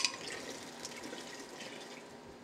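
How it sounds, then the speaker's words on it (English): Water is poured from a can into a cooking pot in a kitchen, a steady soft splashing stream that runs evenly without any talk. "I have filled this can with water. And I'm going to pour it right back into here"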